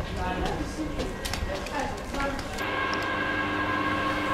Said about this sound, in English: Check out the old Hungarian communist train that's going to take us to the border town of Zahony.